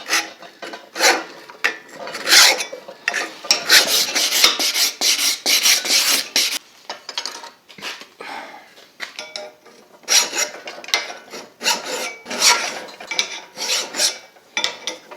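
A knife made from an old file is being shaped by hand with a file, giving steady rasping strokes in repeated bursts with a short pause midway. The strokes are close and fairly loud, and no one speaks.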